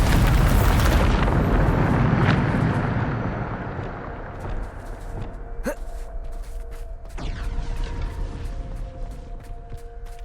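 A Bombarda blasting spell cast in Hogwarts Legacy gives a loud rushing explosion at the start, then rumbling debris that fades into quieter clinks and a low lingering hum.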